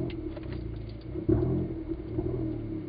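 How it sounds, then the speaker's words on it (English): A Corsa VXR fitted with a new three-piece exhaust starts up, a low rumbling idle with a sharp burst as the engine catches, then settling into a steady hum. "Just got the exhaust fitted, the third piece. My first start up."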